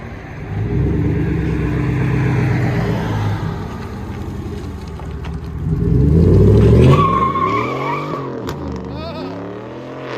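A 2016 GMC Sierra Denali with a 6.2L V8 and a straight-pipe dual exhaust (2.5-inch system, 4-inch tips) drones loudly and steadily, then swells into a hard, rising rev before falling away.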